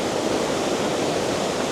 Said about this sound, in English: Took a video of just the waves, just so you could listen to that sound.